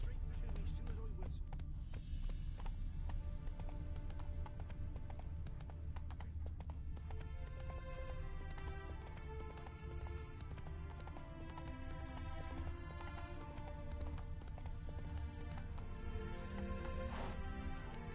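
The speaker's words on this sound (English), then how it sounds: "It's a horse. What's more? A mare." A horse in the Witcher 3 video game clip-clops along at a steady trot, hoofbeats rhythmic and continuous under game music and ambient sound, with a neigh mixed in.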